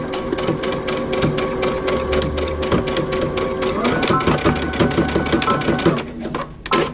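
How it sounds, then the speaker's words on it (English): Domestic sewing machine running stitches forward and then reversing to back-stitch across the top of a long coat vent, a rapid rhythmic clatter of needle strokes with a brief pause and shift in pace, ending in a few handling clicks. "And I'm going to stitch and back stitch."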